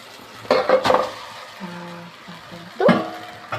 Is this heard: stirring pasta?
yes